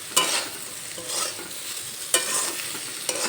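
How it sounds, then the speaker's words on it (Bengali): Fried bitter gourd stirred in a pan with roasted cumin powder: repeated scraping, rustling strokes of the spatula over a soft frying hiss, close and steady, with no talking. "ভাজা জিরের গুঁড়ো দিয়ে একটু নেড়ে চেড়ে নেব"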